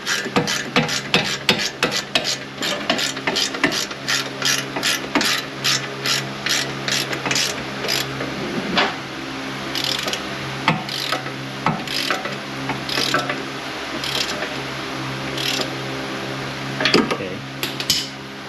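A ratchet tightens the wheel bearing bolts on a 2016 Buick LaCrosse rear hub. Rapid clicking comes in bursts, close and loud, with pauses between strokes and faint talk.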